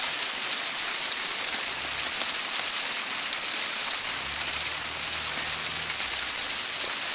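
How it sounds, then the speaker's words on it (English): Heavy pea-sized hail pours down outdoors in a dense, unbroken hissing roar that stays loud throughout, with a low hum rising faintly underneath partway through. "In the hail. It's just crazy. It's really coming down."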